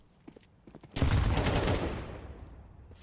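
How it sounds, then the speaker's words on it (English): An AK rifle fires in the video game Counter-Strike 2 at long range, a sudden loud burst of shots that decays over a couple of seconds, following faint quiet activity, with no voice. "That's the power of the AK in the long range. One headshot and you're done."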